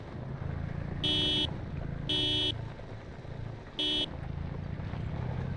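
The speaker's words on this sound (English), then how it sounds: "We're gonna honk the horn a couple times." A vehicle horn in the video game Harvest gives three loud, flat honks, the first two about a second apart and the third after a longer pause, over steady engine and wind rumble.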